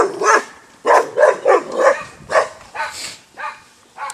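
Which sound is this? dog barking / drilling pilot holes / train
dog barking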